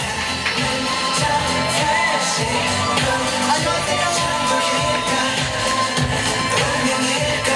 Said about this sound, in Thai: และขอเสียงปรบมือดังๆต้อนรับคุณพัชจีฮุนครับ